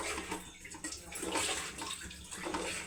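Water pours steadily into spiced flour batter for a Telangana home recipe, a continuous close splashing gush with no talk over it.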